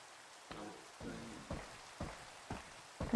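Rain falls in Minecraft with the ATM 8 modpack as a faint, soft patter, marked by regular swells about every half second.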